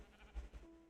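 A sheep in a video game bleats twice in quick succession, faint and short, over a soft background hum.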